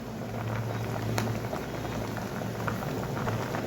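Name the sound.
gongura dal boiling in a pot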